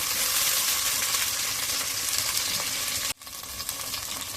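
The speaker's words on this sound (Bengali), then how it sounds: "তেজপাতা, এলাচ, দারচিনি, পেঁয়াজ কুচি দিয়ে একটু ভেজে নিলাম।" Bay leaf, cardamom, cinnamon, chopped onion and green chillies fry in hot oil with a steady, close, bright sizzle that runs unbroken, then cuts out abruptly for a moment before the crackle resumes.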